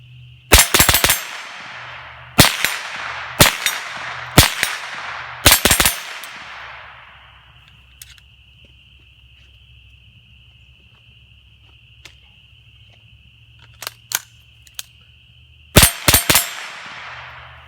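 A CMMG .22 conversion kit rifle fires outdoors: sharp, loud reports come singly and in quick pairs in a first burst, then after a long pause with a steady insect drone a few more shots ring out.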